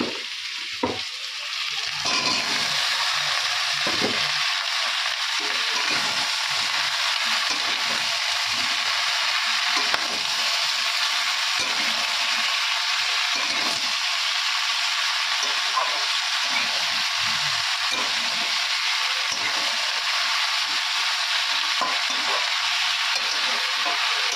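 Vegetables with onion and green chili frying in a kadai of oil seasoned with five-spice, giving a steady, close sizzle that holds evenly throughout with faint stirring scrapes.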